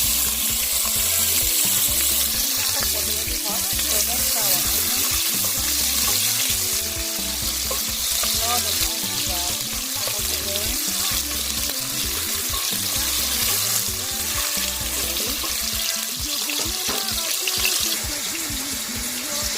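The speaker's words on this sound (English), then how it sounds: "we're going to start by frying our onion" Onion frying in oil in a pot, a loud, continuous sizzle and crackle lasting many seconds with occasional stirring and clattering, no voices.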